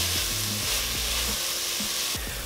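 Vegetables and garlic cooking down in a pan for okra with spicy lamb, a dense continuous sizzle with a few low knocks and clunks of the pan underneath.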